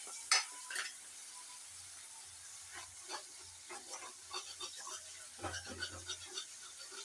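Ginger garlic paste sautéing in a pan, heard as a faint, soft sizzle with intermittent scraping stir strokes, low and close with no talking over it.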